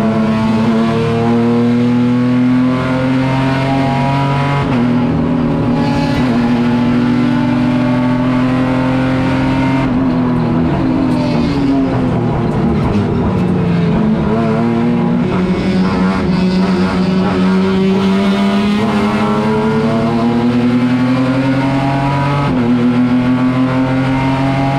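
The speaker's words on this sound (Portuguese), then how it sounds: "olha o Beirão abrindo para fazer tomada de curva na temida 1 de Tarumã" Race car engines roar loud and close through turn 1 at Tarumã circuit at around 170 km/h, a sustained high-revving whine that dips in pitch and climbs again as the cars brake and accelerate through the corner.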